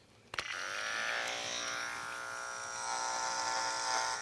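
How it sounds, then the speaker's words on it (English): Wahl KM10 dog clipper switched on at high speed with a 1/4 inch stainless steel guard comb, grooming a Goldendoodle's thick dirty coat: a sharp click, then a steady close-up electric buzz with strong harmonic hum, rising slightly as it cuts. "let's see what the wall KM10 does with a 1/4 inch stainless steel guard comb on high"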